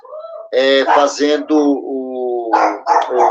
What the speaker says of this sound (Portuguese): os cachorros latindo aqui no nosso quintal